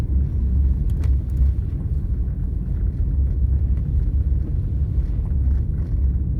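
Low, continuous rumble of cars crawling at about 15 to 20 miles per hour along a snowy road during a Canadian snowstorm, a steady engine and tyre drone with no talking.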